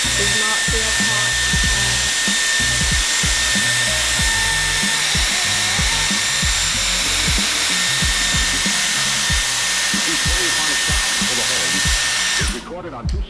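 A Dyson Airwrap hair styler blows air in a loud, constant close whoosh with a motor whine, shifting from hot to cool settings, and low muffled rustles run beneath it before it cuts off at the end.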